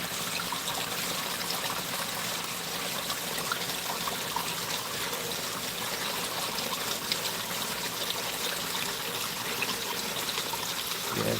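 Water runs steadily down into a newly built garden pond, a continuous close trickle and splash with no voices over it.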